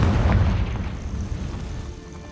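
A Confringo fire curse detonates in Hogwarts Legacy, a loud, deep boom that rolls out and slowly fades over about two seconds.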